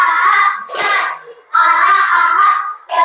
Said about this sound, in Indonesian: Mari semuanya kita tepuk semangat.